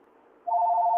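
A telephone starts ringing partway through, a loud steady electronic tone that sounds alone after a quiet hum.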